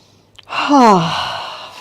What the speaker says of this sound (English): Breathe a little more for 3.